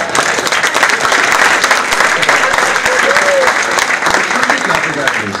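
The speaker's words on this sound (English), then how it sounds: "You should not be clapping about this" An audience at a university event claps loudly in sustained applause, with crowd voices mixed in among the steady clapping.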